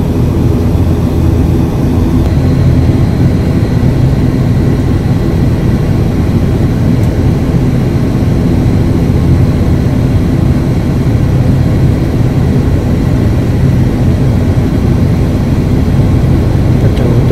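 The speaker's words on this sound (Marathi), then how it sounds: "हे टॅक्सिंग कुठल्या दिशेला होणार आहे" A passenger airplane taxiing on a runway, heard from inside the cabin as a loud, steady engine roar and low rumble that holds unbroken throughout.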